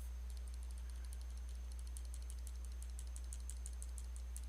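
Soft computer mouse clicks while editing a hairline in Photoshop, a rapid scattered series of faint taps over a low steady hum, with no talk.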